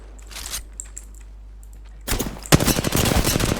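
Rapid automatic gunfire from Apex Legends bursts in loud and sustained after a quieter stretch of faint clicks and distant pops, with dense, continuous shots.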